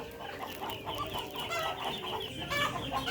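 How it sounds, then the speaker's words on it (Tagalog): Darag native chickens, a breeder flock, cluck steadily and busily at close range while being fed corn, with overlapping calls and no talk. "ipapakain natin sa ating mga alaga mga darag ng mga breeder"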